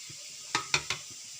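Potatoes frying for aloo bhaji give a soft, steady hiss, broken by three quick utensil clinks against the pan, all close but fairly quiet.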